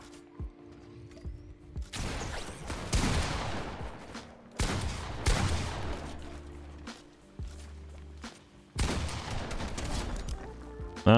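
Gunfire and build-fight clatter in Fortnite come in several loud bursts separated by quieter gaps, with mechanical clicks and creaks between them, ending on a sharp hit.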